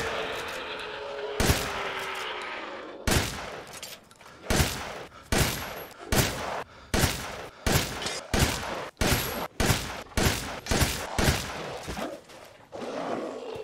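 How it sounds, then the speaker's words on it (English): Shotgun blasts from an M1897 pump-action in Resident Evil Village, fired at a large lichen creature: about fourteen loud, evenly spaced booms with short pauses, close and dominant, no talking. "So 14 shots to take down the large lichen with full upgrades and parts on the M1897."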